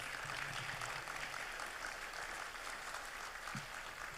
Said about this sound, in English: I think we should give them a warm applause.